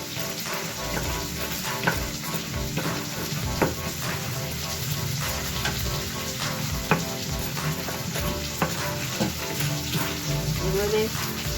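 Spices fry in a hot pan in a home kitchen during chicken chowmein cooking, a constant close sizzle broken by sharp clicks and scrapes of stirring.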